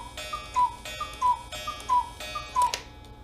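A cuckoo clock with newly repaired bellows ticks and tocks in an even, close rhythm. A tonal sound rises with every few beats, much like the whistle of the bellows. Nothing else is heard, and the room is quiet.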